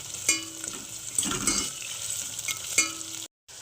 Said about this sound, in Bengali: তো পেঁয়াজটাকে একটু ভেজে নেব